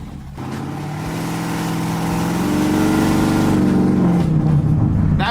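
A supercharged car accelerates at half throttle, its engine note climbing steadily in pitch and loudness with a faint blower surge beneath, close and continuous with no talking.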